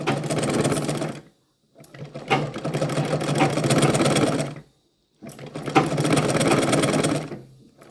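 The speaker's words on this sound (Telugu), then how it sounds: "ఈ పట్టి అనేది అనగడానికి నేను పైనుంచి ఒక కుట్టుని పెడుతున్నాను" A sewing machine runs in three long bursts, stitching along a lining strip on a blouse, loud and close, with brief silent pauses between runs.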